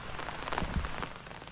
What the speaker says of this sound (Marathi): त्या पावसात जोर इलो